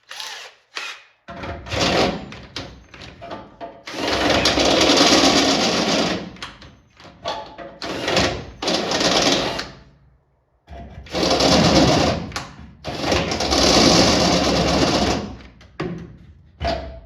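A cordless drill fitted with a step bit runs on a weak battery, whirring and grinding in several long bursts with short gaps, loud and close, with no talking.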